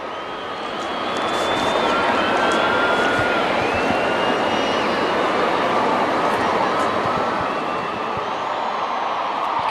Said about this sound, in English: You can hear the fans getting louder in anticipation for this matchup today